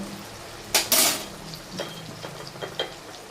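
A spoon scrapes and clatters through tomato puree and salt in a pan for paneer curry, with a couple of louder knocks early on, then lighter intermittent stirring taps, no voices.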